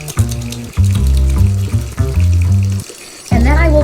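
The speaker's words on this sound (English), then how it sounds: "I wash my hands very vigorously with fairly warm water" Warm water running from a tap while hands are washed vigorously underneath, a loud close splashing flow broken by tonal hums and brief gaps, with no voices.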